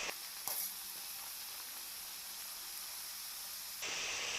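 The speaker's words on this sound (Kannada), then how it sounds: "ಮೀಡಿಯಮ್ ಫ್ಲೇಮ್ನಲ್ಲಿ ಇಟ್ಕೊಂಡು ಒಂದು 5 ಮಿನಿಟ್ಸ್ ಚೆನ್ನಾಗಿ ಡೀಪ್ ಫ್ರೈ ಮಾಡ್ಕೊಳ್ಳೋಣ" Wheat biscuit dough deep frying in hot oil over a medium flame gives a steady, fairly quiet hiss and sizzle, with a brief brighter burst early on and a louder surge near the end.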